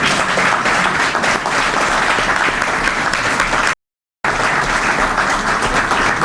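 An audience at a book event in Madrid breaks into loud, sustained applause for Nico Roa, a dense, even roar of many hands clapping. The clapping cuts out briefly and then resumes just as strongly.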